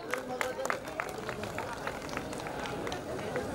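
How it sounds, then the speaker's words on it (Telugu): An audience at a sangeet celebration claps for a boy, a scattered run of hand claps with crowd murmur and a voice speaking over it. "ఒకసారి బాబుకి క్లాప్స్ కొట్టండి"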